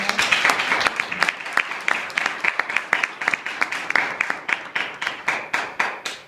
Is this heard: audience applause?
yes